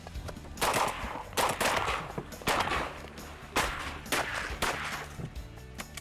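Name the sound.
shotgun shots at incoming teal ducks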